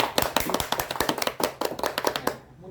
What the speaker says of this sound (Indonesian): Beri tepuk tangan yang meriah.